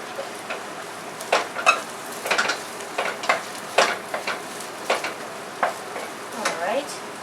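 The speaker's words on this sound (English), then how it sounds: "the garlic is sauteing here in the olive oil. So now we will add the onion" Garlic and onion sauté in olive oil in a pan, a steady soft sizzle broken by repeated scrapes and clicks of a utensil stirring, close and moderately quiet.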